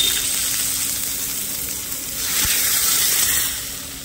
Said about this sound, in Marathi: हे बघा फोडणी होते कडक कशी